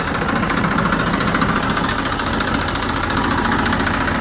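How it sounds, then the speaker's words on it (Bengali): A used trolley engine idles steadily with a dense, even mechanical rumble and rapid knocking pulses, close and loud throughout with no talking. "এই যে ইঞ্জিনের সাউন্ড"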